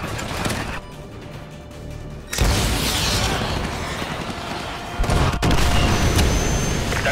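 An AGM missile strikes an enemy helicopter in Call of Duty Modern Warfare 2, a loud booming impact whose heavy roar kicks in abruptly, followed by a second jolt of blast and rumbling debris.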